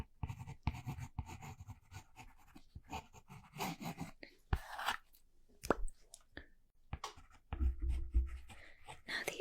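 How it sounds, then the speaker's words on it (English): Pencil sketching across the cardboard side of a sheet, close and quiet, with scratchy bursts of strokes broken by short pauses and a few soft taps. "So now I'm just going to do a basic sketch."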